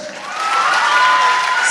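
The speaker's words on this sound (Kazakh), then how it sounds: "Шапалақ ұрыңыздаршы." Dense, sustained applause and crowd noise from a concert audience in Aktau, steady and loud throughout with cheering mixed in.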